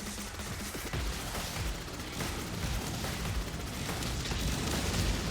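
Game explosions from the video game Subverse: a dense, continuous barrage of booms and bursts filling the whole stretch, loud and steady with no clear gaps between blasts.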